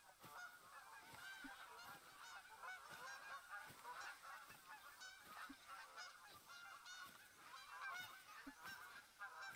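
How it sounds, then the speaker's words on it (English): Geese honk in the hunting video game TheHunter: Call of the Wild, a dense, continuous chorus of repeated nasal calls from a flock at moderate distance, with no talk over it. "It's an invisible goose calling at us."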